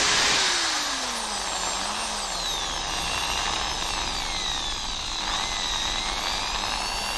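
Skil 10mm electric drill running flat out at maximum speed, a loud, continuous high-pitched motor whine with shifting overtones that holds steady from start to finish.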